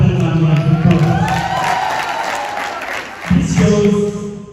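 Audience applause at a Gambia pitch day event for Gambian football, steady clapping from a crowd heard under a continuous, loud amplified speaking voice.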